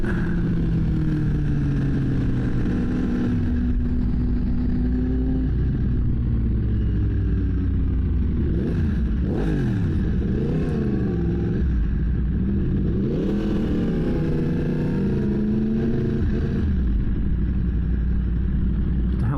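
A car on a road accelerating along a short stretch of Route 316: a loud, close engine rumble with rising and falling revs as gears shift, steady throughout without speech.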